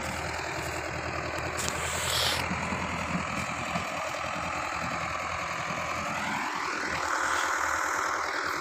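Tractor engine hauling a trolley loaded with about 550 maunds of sugarcane in Punjab, a steady, fairly faint, knocking diesel chug with a higher whine rising and falling as it runs.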